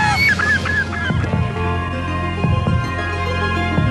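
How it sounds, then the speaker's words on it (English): Harsh, repeated honking bird calls overlapping one another, loud and agitated, over a constant low background hum. "bioacoustics, which is the use of bird distress calls,"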